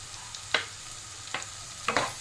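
Ground cumin, coriander and chilli powder with green chillies sizzle softly in a pan while a spoon scrapes and stirs in three quick, light strokes.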